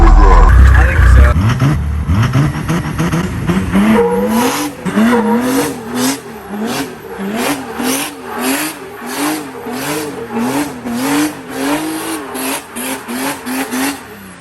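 A Nissan Patrol Y61 GU fitted with an OM606 diesel engine accelerates hard, loud and close, the engine rising and falling repeatedly over about fourteen seconds with some tire noise.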